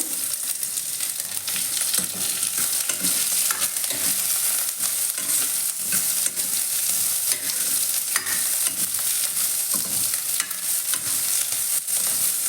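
Cumin, curry leaves and onion fry in a hot oiled pan with a continuous loud sizzle, broken by repeated scraping and stirring strokes of a spoon throughout.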